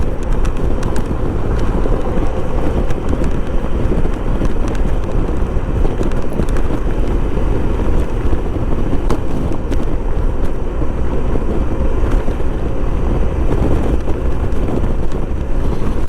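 Loud, constant wind roar buffeting the rider on a 1994 Honda ST1100 Pan European motorcycle on the highway, steady broadband rush throughout with no talking.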